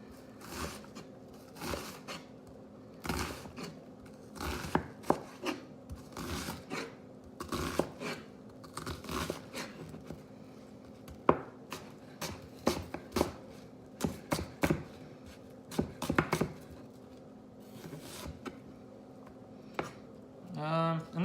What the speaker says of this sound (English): So then I'm just chopping, gonna claw grip so I don't cut my fingers.